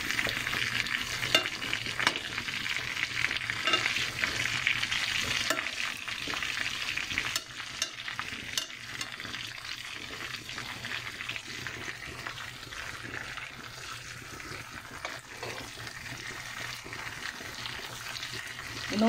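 Swedish meatballs frying in a pan, a continuous loud hiss and crackle of hot fat with turning and stirring noises throughout, no talking.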